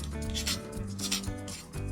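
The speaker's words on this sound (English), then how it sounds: "This is the sound of the crust on the chicken popcorns." Crispy fried chicken popcorn crust rustled and crunched up close, with quiet scratchy crackles in short bursts and no talking.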